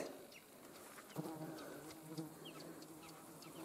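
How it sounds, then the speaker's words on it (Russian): Horseflies buzz over a village meadow, faint buzzing that rises and fades as insects pass close, with a couple of nearer swells, all quiet and outdoors. "Оводы жужжат."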